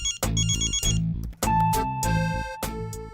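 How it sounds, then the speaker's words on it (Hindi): A phone ringtone plays a bright electronic melody in repeating bursts of tones, loud and close, with no talking. "ओह माय गॉड, देवी का फोन"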